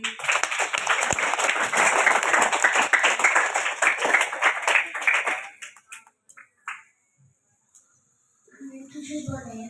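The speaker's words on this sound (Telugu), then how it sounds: "వాళ్ళందరికీ గట్టిగా చప్పట్లు కొట్టండి" Enthusiastic applause from a gathered audience honouring first-class students, dense and loud for about six seconds before fading into a few scattered claps, followed by a voice starting to speak.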